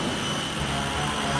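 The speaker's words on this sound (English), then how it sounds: "And the throttle jet surged ahead." A throttle jet surges ahead with a dense, roaring blast of engine thrust, loud and close, sustained evenly throughout without any voices.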